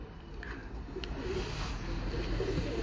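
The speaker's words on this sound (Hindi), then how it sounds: "शागिर्द हैं उस्ताद यूनुस पहलवान ऑफ कसूर के, उनके मेन ब्रीडर कबूतरों का आपको शो करवा रहे हैं।" Breeder pigeons cooing during a loft show, a soft continuous murmur of low coos over steady background hiss, with no one talking.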